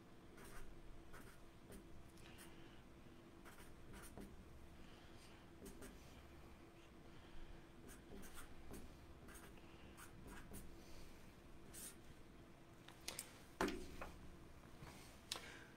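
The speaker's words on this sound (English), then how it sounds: "I'm going to write this question down." Pen or pencil writing a question by hand on paper, a quiet scratchy stroking that runs steadily with small ticks and taps, under a faint background hum.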